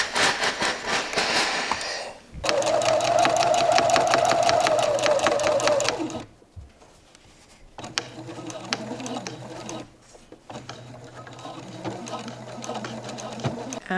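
A sewing machine stitches a shirt seam in steady rapid bursts, the first long and loud, then two shorter runs with pauses between, with someone talking faintly at the start.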